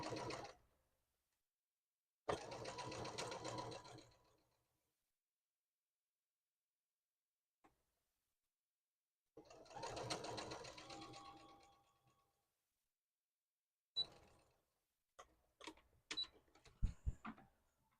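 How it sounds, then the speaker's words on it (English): A sewing machine stitching plush braids with many corners and pivots runs in several close bursts of a few seconds each, separated by silence, ending in short irregular stops and starts. "So these braids take a little bit longer to sew because they have so many corners and pivots."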